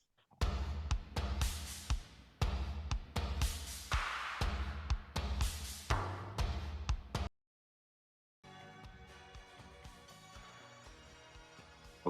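An excerpt of a song from an album, with loud full-band music and sharp percussive hits for about seven seconds, then a brief silence and a quieter, sustained synth-heavy passage.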